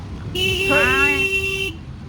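A car horn stuck on blares in one loud, continuous tone that holds steady for over a second before cutting off, close by, with a voice speaking under it.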